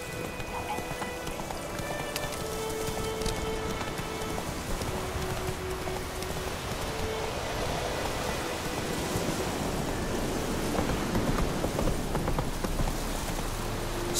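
Horse hooves clip-clop in a steady, rhythmic trot in The Witcher 3, close by and lasting throughout, over a soft rain-like background hiss.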